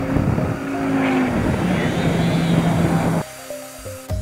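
A Dodge Viper on the Willow Springs Raceway track gives a strong, droning engine roar with a shifting tone, then drops to a lower, choppier rumble near the end.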